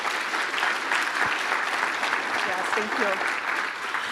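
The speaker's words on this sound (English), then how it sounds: "Let's give her a round of applause if we could." Steady applause from an audience at a United Way kickoff event, a continuous dense wash of clapping that holds evenly for the whole span, with a few faint voices murmuring underneath.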